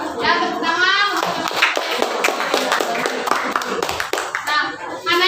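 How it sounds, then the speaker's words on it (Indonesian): Children clapping their hands in a classroom, a rapid, uneven patter of claps mixed with kids' voices and chatter close by. "Ya, tepuk tangan."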